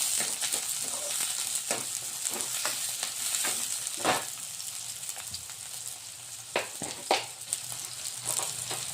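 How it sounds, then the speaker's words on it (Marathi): Chopped onion with green chillies frying in a pan until soft, giving a continuous crackling sizzle broken by repeated scrapes and taps of a stirring spoon, close and fairly quiet with no voices. "आता आपला कांदा मऊ होईपर्यंत शिजून घ्यायचा आहे।"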